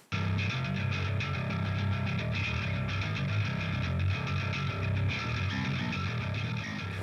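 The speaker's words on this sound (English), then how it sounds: "I used the Tosin Mid preset from Bias Effects, and this is what it sounds like." Heavily overdriven bass guitar shaped by the Bias Effects Tosin Mid preset, playing a dense, sustained gritty line that runs continuously and loud throughout, with no voices.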